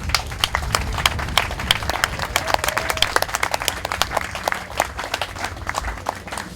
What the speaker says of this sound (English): So I'd like to give you a big round of applause